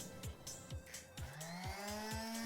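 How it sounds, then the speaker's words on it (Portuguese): A Makita orbital sander works against a damp, waterproofed wall, a close motor whine rising in pitch with rhythmic scraping pulses as it presses and moves across the surface. "eu estou utilizando uma lixadeira da Makita"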